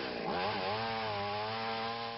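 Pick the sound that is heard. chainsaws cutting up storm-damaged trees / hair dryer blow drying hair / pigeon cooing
chainsaws cutting up storm-damaged trees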